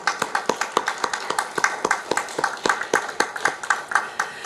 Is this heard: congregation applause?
yes